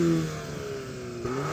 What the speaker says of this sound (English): can you rev up your Porsche, please?